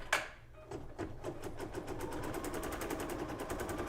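A sewing machine stitches down fabric bunny ears, opening with a sharp clunk, then a fast, even rattle of needle strokes that speeds into a steady close chatter.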